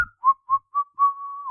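A cartoon character whistles a short tune alone, four brief rising notes followed by one long held tone, clear and close.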